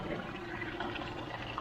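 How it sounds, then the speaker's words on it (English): Water draining out of a backyard swimming pool through a disconnected line during winter closing, a faint, steady trickling flow with no voices. "See the water coming out right there."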